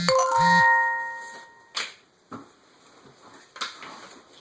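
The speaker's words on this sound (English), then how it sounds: "That's a notification, people, because we're filming it on a phone" A phone notification chime sounds at the start, a short bright two-tone jingle, followed by a few faint clanks and knocks as a blender kitchen system is unboxed.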